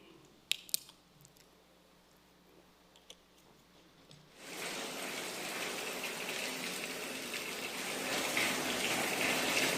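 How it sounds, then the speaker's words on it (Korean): Water pours down from a ceiling in a building, starting abruptly after a few quiet seconds with faint knocks, then a loud, continuous gushing rush that grows slightly stronger toward the end. "천장에서 말도 못할 물이 떨어지죠"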